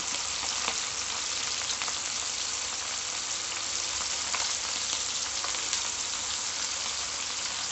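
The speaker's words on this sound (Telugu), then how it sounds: "ఒక్కొక్క పీసుగా వేసుకొని ఫ్రై చేసుకోవడమేనండి" Prawn pieces fry in spiced masala for an Andhra-style dish, giving a steady, even sizzle with faint crackles throughout and no voices heard.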